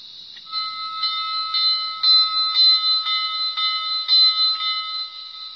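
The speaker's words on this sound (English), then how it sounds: "So we'll do the bell." A bell on a DIY rolling road rig rings in a rapid series of bright, metallic strikes, each with a sustained ringing tone, steady and loud with no talk over it.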